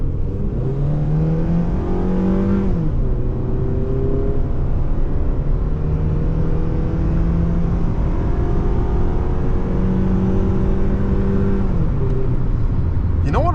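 A 2005 Toyota RAV4 engine revs up steadily through the gears from inside the cabin, its pitch climbing, dropping at each shift and climbing again, loud and continuous throughout.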